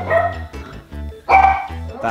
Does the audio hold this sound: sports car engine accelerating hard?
no